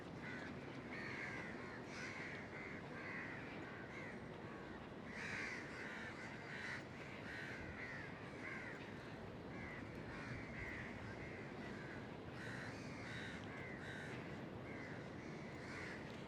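Crows calling across Singapore's city waterfront between Marina Bay and Boat Quay, repeated harsh caws from several birds over a constant low urban hum, moderately distant and faint.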